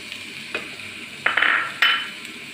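Chopped green chillies and curry leaves land on sliced onions in a hot pan, setting off two sharp bursts of sizzling between light clinks and stirring, close by with no voices.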